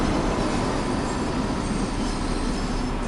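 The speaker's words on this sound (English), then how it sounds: "sorry if the train is very loud, because not really much I can do about that" Loud, steady rumble of a train running in Train Sim World 2, a dense continuous roar with rail noise filling the whole stretch and no talk over it.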